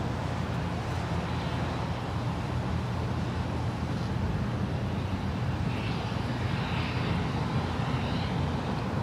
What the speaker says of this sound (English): That is a 2-year-old Airbus A350-900.